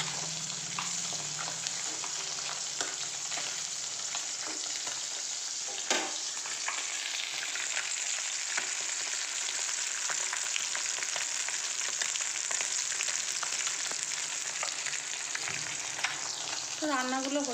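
Fish frying in oil in a pan for a spicy fish curry, a steady hiss and crackling sizzle that runs throughout, with occasional stirring clatter and a brief watery splash near the end.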